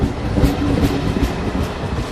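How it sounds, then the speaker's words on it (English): A train rumbles steadily close by at a station in Padua, Italy, a low continuous roar with faint rhythmic clatter of wheels on track. "Big train, huh?"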